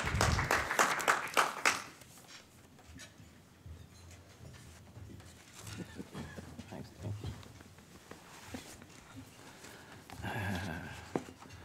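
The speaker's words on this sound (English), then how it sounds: "please give him a warm round of applause" An audience at an evening award celebration applauds a guest named John, with a burst of clapping in the first seconds that quickly dies down into quieter room noise and scattered sounds.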